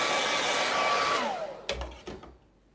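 A hair dryer blows steadily on acrylic paint, a close whooshing roar that winds down after about a second, leaving a few soft knocks and handling sounds as it falls quiet.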